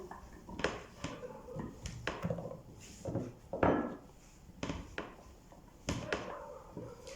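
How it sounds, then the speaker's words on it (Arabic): Celery, onion, carrot and potato are being turned over together in a pot for kebab halla, heard as irregular wooden scrapes and knocks with soft rubbing between them, close and fairly quiet, with no talking. "محتاجين نقلب كله مع بعضه"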